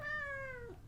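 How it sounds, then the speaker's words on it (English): A house cat lets out one long, loud meow, a clear drawn-out call that bends downward at its end, heard alone and close. "My cat is sharing her opinion about the situation. Very loudly, as she often does."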